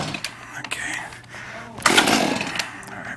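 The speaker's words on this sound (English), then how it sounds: "This is a chainsaw." A chainsaw sputters and catches with short rough bursts of engine noise, rising into a louder snarl partway through, close by with people speaking around it.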